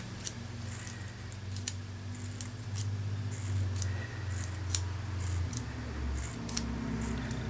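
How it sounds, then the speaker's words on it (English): Scissors snip along a curved edge of paper for a mixed media craft piece, a series of crisp close cuts at an irregular rhythm over a low steady hum. "I just keep cutting all the way down that curved edge"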